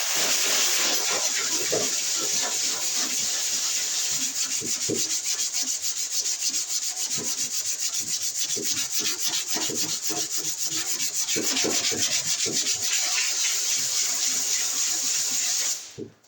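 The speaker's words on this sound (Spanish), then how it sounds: "Vamos a ir con lija 80, como les había dicho, para empezar a lijar este área." Body filler on a hail-dented car panel is hand-sanded with 80-grit paper in quick, continuous back-and-forth scraping strokes, close and fairly loud, with no voices.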